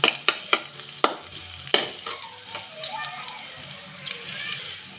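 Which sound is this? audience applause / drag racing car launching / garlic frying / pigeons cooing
garlic frying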